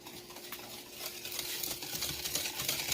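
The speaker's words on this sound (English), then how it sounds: "You're going to whisk all this goodness together." Whisk stirring sweet and sour sauce ingredients together in a bowl for chicken, a steady close scraping and swishing rhythm with no voices.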